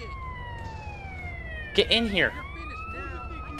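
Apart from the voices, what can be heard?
ambulance siren in the video game GTA San Andreas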